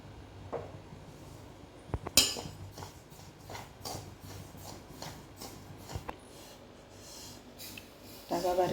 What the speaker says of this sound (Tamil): ரவையை வறுத்துக்கலாம்.